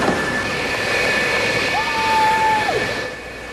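Military fighter and bomber jets launched during the opening air strikes of the 1991 Gulf War: a steady, loud engine roar with a thin whine rising and falling through it, continuing for several seconds.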